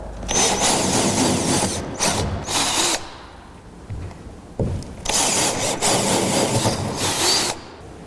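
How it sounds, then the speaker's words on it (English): A power drill whines loudly in several bursts, boring mounting holes for a rack up close, with short pauses between holes. "We're going to go ahead and drill all the spots that we have marked"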